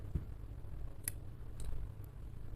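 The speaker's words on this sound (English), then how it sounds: "Now you should cut the rest of the yarn" Scissors snipping through yarn give a few faint, brief clicks spread over a couple of seconds against a quiet low background hum.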